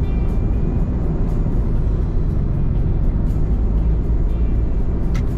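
Steady, dense roar of cars moving slowly along the Cavitex expressway near Manila Bay, continuous engine and tire noise close by with no talk.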